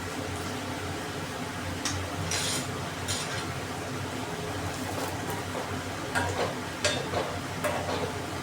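A spoon stirs garam masala into a prawn and banana stem curry in a pot. A few sparse metallic clinks and scrapes sit over a constant fan-like hum, and no one speaks.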